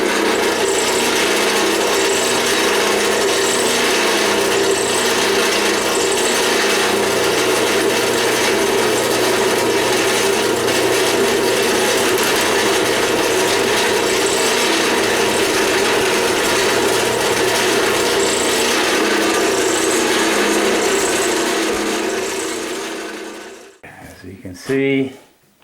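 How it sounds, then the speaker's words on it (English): A Forstner bit bores into a Rickenbacker 325-style guitar body, giving a loud, steady, grinding drone that runs unbroken for about 23 seconds before stopping with a short clatter. "now you can see I'm drilling it out with the Forstner down to 3/8"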